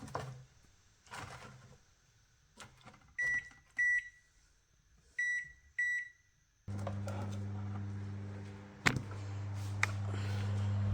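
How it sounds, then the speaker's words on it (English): A kitchen oven gives several short, bright electronic beeps in pairs amid quiet handling noises, followed by a steady low hum from the appliance running. "I will chuck it in the oven for 45 minutes at 250 Celsius"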